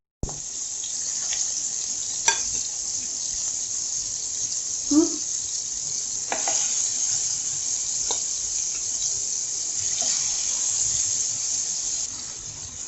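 Medium-sized prawns, 250 grams, drop into hot oil on a low flame and fry with a steady, close, broadband sizzle, with a few sharp pops near the start and midway, and no talk.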